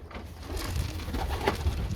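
Pigeons coo in low, throaty, continuous murmurs close by while being fed chick-rearing concentrate, with faint rustling and a soft background hiss.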